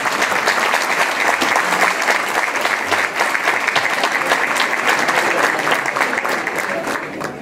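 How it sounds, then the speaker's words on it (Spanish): Loud, sustained applause from a crowd at a Dominican Independence gala in Boston, many hands clapping in a thick continuous roar that holds steady and only eases slightly at the end. "Por favor, démenle un fuerte aplauso."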